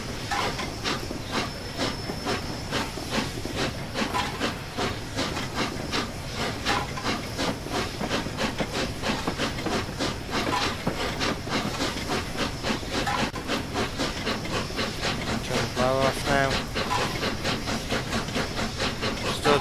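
Flying Scotsman steam locomotive in Train Simulator, with a steady hiss of steam and a rapid, rhythmic chuffing beat running loud and continuous throughout, plus a brief squealing tone near the end.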